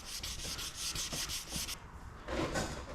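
Hand sanding on a model kit gives a quick series of rhythmic, close, scratchy rubbing strokes, about nine in a row, then a pause and a softer final rub.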